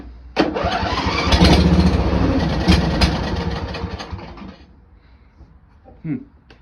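A Briggs & Stratton Intek 21 HP engine is cranked over with the choke on. A loud, continuous cranking churn lasts about four seconds without catching and then stops, followed by a quieter stretch with a brief bump near the end.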